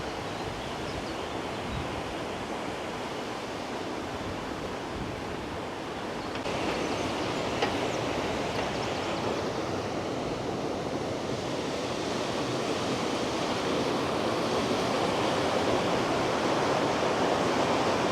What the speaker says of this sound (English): You can probably see all the water gushing in there at a good rate